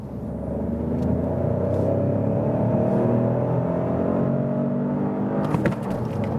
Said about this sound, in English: the 3-cylinder, when you push it a little bit more, even has a rather low frequency sonorous sound somewhat